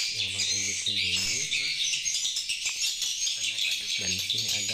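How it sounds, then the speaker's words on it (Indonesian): Recorded swiftlet calls play from a loudspeaker inside a swiftlet nesting building, a busy run of repeated chirps and twittering squawks, close and fairly loud, continuing without pause. "speaker yang terpasang di sarang burung walet"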